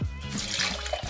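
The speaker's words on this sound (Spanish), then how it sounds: "Le ponemos un poco de agua" Water pours into a blender glass in a steady, close, splashing stream for about a second, ahead of grinding a tropical fruit ice treat.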